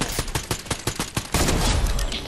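A quick burst of gunshots from an online video game, about a dozen sharp close cracks in rapid rhythm over the first second, then a dense noisy wash of continued fire and effects.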